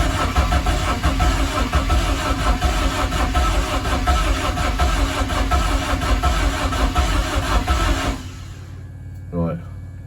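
A BMW M44 engine fitted in an E30 rally car runs rough and uneven at close range, with a loud, lumpy idle throbbing for about eight seconds before it cuts off. A voice speaks briefly afterward.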